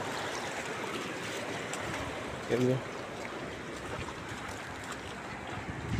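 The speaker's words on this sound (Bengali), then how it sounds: "গাড়ি যাইতেছে আর রাস্তায় পুরো ঢেউ ফেলতেছে" On a flooded road in Dubai after heavy rain, cars drive through deep water and push waves across it, making a continuous rushing wash with a brief bump partway through.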